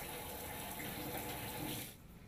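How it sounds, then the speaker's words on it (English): Water streams steadily from a Delta Pilar Touch kitchen faucet side sprayer with a constant close hiss, then cuts off abruptly near the end. "Test the side spray."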